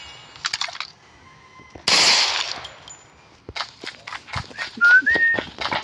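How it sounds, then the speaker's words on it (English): A person whistles in short broken bursts, loud and near, then a rising whistled note near the end, mixed with sharp clicks and a burst of noise like game gunfire. "I'm just whistling myself"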